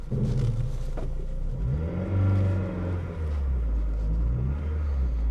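An abandoned Acura RSX runs with its engine rumbling loud and close, revving up and down in smooth swells with a whirring undertone, no talk over it.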